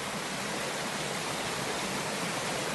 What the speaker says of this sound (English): This is the stream that goes to the waterfall.